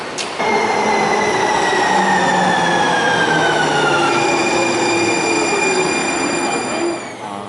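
A Houston METRO light rail tram passes close and loud, its wheels squealing in long sliding tones over a steady rumble for several seconds before easing off.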